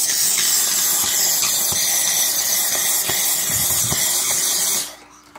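Steady, loud hiss of air blown through the drain hose of a leaking Frigidaire side-by-side refrigerator, continuous for nearly five seconds before cutting off abruptly, with small knocks mixed in and no talking.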